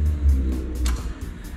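A Honda hybrid snow blower's engine running close by, a low rumbling drone that swells briefly and then settles.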